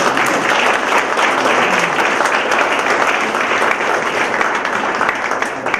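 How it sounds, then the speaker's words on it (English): A conference audience claps in steady, dense applause for a presented team, loud and unbroken throughout, with a faint murmur of voices beneath. "Let's give another round of applause."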